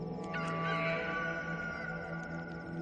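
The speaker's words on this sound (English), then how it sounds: "A second time, the rooster crowed." A rooster crows once, a drawn-out call over a steady tonal background hum, moderately faint.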